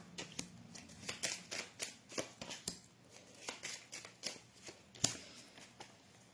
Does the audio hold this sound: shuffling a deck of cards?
yes